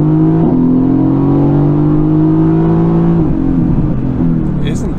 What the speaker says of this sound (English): This sounds like a sports car.